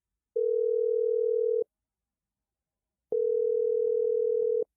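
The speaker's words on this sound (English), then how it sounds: "the noise you hear when you call someone" Telephone dial tone made of 440 and 480 hertz layered together, heard as two steady, loud bursts of about a second and a half each, separated by silence.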